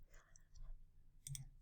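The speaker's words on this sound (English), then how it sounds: "I'm going to highlight them all and press the delete on my keyboard" A delete key pressed on a computer keyboard gives a quick, soft double click, close by and quiet, after a brief stretch of near silence.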